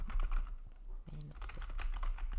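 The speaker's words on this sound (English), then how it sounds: "Are you typing it?" Rapid keyboard typing taps at close range on a computer keyboard, with people talking over and around it in a podcast setting.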